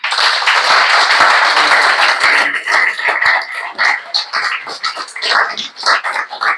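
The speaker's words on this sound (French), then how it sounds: "On peut vous applaudir." An audience at an evening book talk applauds, a dense spread of clapping that thins into scattered, uneven claps toward the end, with no voices over it.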